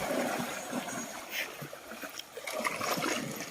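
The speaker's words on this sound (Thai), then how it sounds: "เป็นคลื่นเลยนะครับ" Water sloshes and splashes in small waves from people swimming and playing outdoors on a hot day, a soft continuous wash with scattered splashes, fairly quiet.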